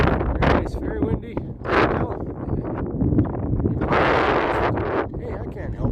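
Strong wind buffets the microphone outdoors in the mountains, loud roaring gusts that rise and fall continuously, with a heavier blast toward the end.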